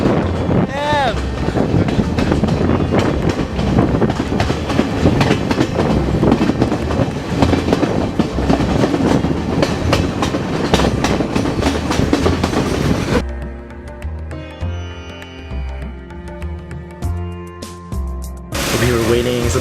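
A train rumbles along the rails from Ella to Kandy, Sri Lanka, through hillsides, with constant clatter and wind buffeting the microphone, then the noise drops to a quieter rolling hum before rising again.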